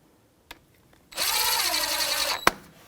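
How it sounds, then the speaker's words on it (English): A power tool with a 14mm socket snugs a brake caliper bolt on a 2007-2017 Jeep Patriot 2.4L, a single loud, steady whirring burst of about a second, close, with a click before and a clunk after. "That's that 14mm socket we're going to get and snug it up."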